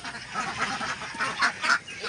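Domestic ducks on an organic duck farm give a few nasal honking quacks, mid-distance and moderately loud, over a steady outdoor background with no talking.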